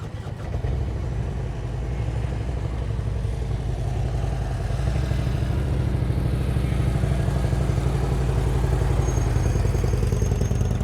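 A motorcycle engine runs steadily at low throttle during slow-speed riding practice, a loud, close, continuous throbbing rumble with a rapid pulsing beat that holds even throughout.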